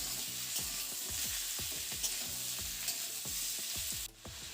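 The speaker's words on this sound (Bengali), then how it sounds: "মূলোটাকেও এখন ভালোভাবে মিশিয়ে নিচ্ছি" Thinly sliced radish stirred in a frying pan, giving a steady loud sizzle with repeated scraping strokes of the spatula at an even rhythm, then the sizzle drops off abruptly near the end, no voices.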